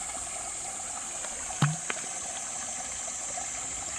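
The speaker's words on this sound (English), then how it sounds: "There's the waterfall." Steady rushing water from a stream and waterfall on a valley hiking trail in South Korea, a constant broad wash with a brief knock partway through.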